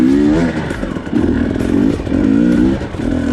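A KTM 250 two-stroke dirt bike crawls in first gear in Moab terrain, its engine note rising and falling in short throttle surges, loud and close.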